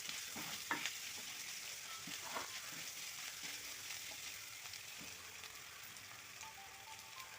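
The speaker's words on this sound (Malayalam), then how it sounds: "ഇതിലേക്ക് കുറച്ച് കറിവേപ്പിലയും കൂടെ ചേർത്ത് ഒന്നുകൂടെ ഇളക്കാം." Onions and curry leaves sauté and sizzle in a pan, a steady hiss with soft scraping stirs and a few sharper clinks near the start, continuous and close with no talking.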